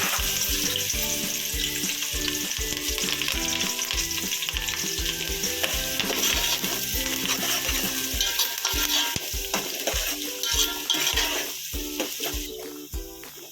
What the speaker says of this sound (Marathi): तेल तापलंय, आता कांदा आणि कढीपत्ता टाकून घेऊ